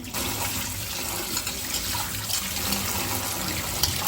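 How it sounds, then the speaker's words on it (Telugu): Chopped banana flower is swished and washed in water, a steady splashing, running-water wash at close range with no talk. "పువ్వు అంతా ఒక 2-3 టైమ్స్ వాష్ చేసేసుకోవాలి."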